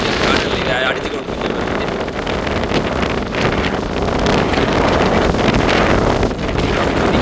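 Strong storm winds roar along the sea coast at Jaffna, buffeting the microphone in loud, continuous gusts with surf beneath, while someone speaks over the din.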